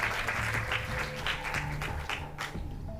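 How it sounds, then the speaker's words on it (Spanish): Applause at a gaming championship event, a crowd clapping steadily and fairly close over background music with sustained tones. "Un fuerte aplauso para ellos"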